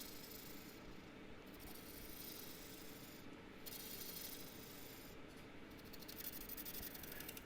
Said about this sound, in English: I'm using, again, that scraping cut to flatten out the top of this bowl